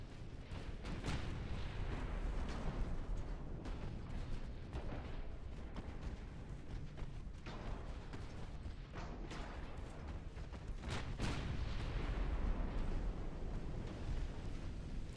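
Naval gunfire in a video game, with heavy cruisers and battleships trading fire: a continuous low rumble carries repeated deep booms and blasts spread across the fifteen seconds, fairly faint overall.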